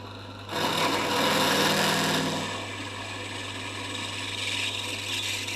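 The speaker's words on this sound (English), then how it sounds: "So why am I attacking the centre strap with a die grinder?" A die grinder cuts into the centre strap of a mudguard for a Villiers Panther Model 50 motorcycle, giving a steady, close, high-pitched whine that swells for a couple of seconds and then holds at a slightly lower level.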